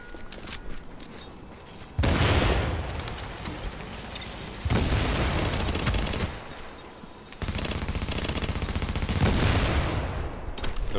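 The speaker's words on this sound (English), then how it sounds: "Here come the nades." Grenade explosions and gunfire in a video game firefight, with bursts of rapid automatic fire and heavy booming blasts in three loud waves separated by quieter stretches.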